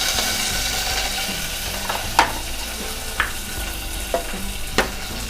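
Curry leaves fry in a pan of hot oil with a steady, close sizzle, broken by a few sharp taps of a spoon against the pan.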